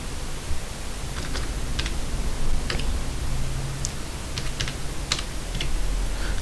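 Light, scattered key presses on a computer keyboard enter an Aadhaar card number, soft irregular clicks over a hiss of background noise with no voices.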